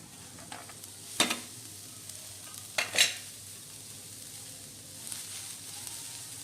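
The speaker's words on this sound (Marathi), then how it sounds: "आपण हे पॅनवरती सर्व साहित्य एक एक करून भाजून घेणार आहोत तेल न वापरता" Onion and garlic dry roast in a pan without oil, giving a faint low sizzle. A few brief scraping stirs stand out near the start and middle, and the whole sound is quiet and close.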